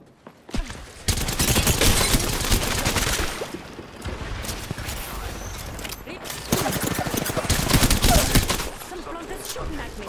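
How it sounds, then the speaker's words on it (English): Rapid bursts of enemy gunfire in Apex Legends, dense fusillades of shots filling the clip loudly, with brief lulls between volleys and a player's voice talking over the shooting. "Some planters shooting at me."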